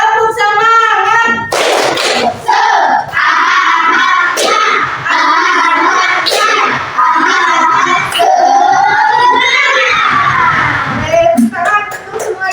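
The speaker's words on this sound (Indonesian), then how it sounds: "Coba sekali lagi. Tepuk semangat." A classroom of schoolchildren performs the rhythmic 'tepuk semangat' clap chant, loud and close, with sharp clap bursts mixed with chanted voices and shouting for about ten seconds before fading.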